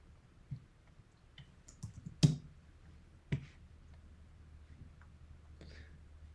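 A few quiet computer mouse clicks in a still room, two sharper taps standing out among faint scattered ticks.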